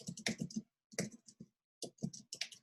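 Fingers type on a computer keyboard in quick bursts of crisp clicks separated by short pauses, close and fairly quiet, with no talk.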